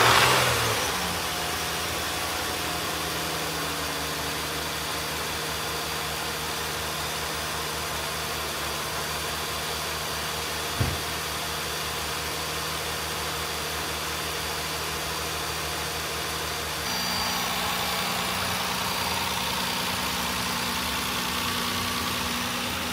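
A 2017 Nissan Murano engine, just fitted with new spark plugs, coils and valve cover and intake gaskets, runs at a steady idle close by. It holds an even hum, with a single brief knock near the middle and a slight shift in tone toward the end.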